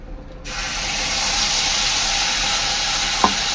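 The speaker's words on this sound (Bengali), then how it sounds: "এবার ওই তেলের মধ্যেই আমি দিয়ে দেবো এই শস্য বাটাটা।" Mustard paste hits hot oil left from frying tilapia, bursting into a loud, steady sizzle after a brief quiet start, with a single clink near the end.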